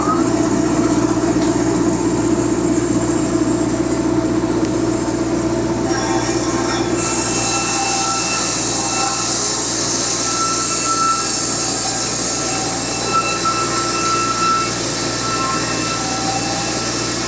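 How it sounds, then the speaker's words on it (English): A sawmill blower runs with a loud, steady industrial drone and whine, a higher hiss joining partway through, with faint voices underneath. "Let's turn the blower on and make it happen."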